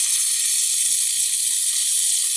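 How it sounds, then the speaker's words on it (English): A Philips super-automatic espresso machine's steam wand hisses in a steady, loud, continuous rush without breaks. "Now it's making steam."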